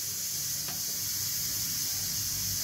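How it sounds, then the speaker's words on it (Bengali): Fish curry in a pan on a home stove, giving a steady, even sizzle and hiss that runs throughout, fairly close and alone with no voices. "মাছের ঝালটা চাপিয়ে দিচ্ছি"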